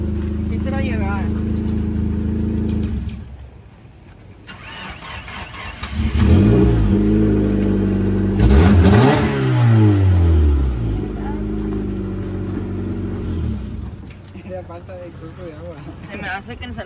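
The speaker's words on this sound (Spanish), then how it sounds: "Lo voy a apagar y si no prende, pues, valió ver." A Nissan Sentra's engine at a mechanic's shop, running and revving loudly up and down close by, with people talking over it.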